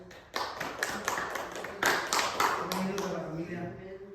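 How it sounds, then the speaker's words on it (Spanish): A church congregation claps for a couple being welcomed, a small group of hands starting abruptly and building into uneven, moderately loud clapping with some voices, then thinning toward the end. "Un aplauso a esta pareja."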